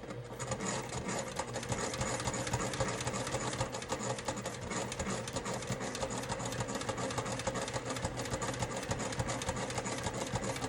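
A sewing machine tacking down a zipper on a small charm bag runs steadily at a standard stitch length, its close, even mechanical whirr and rapid needle clatter continuing without pause throughout.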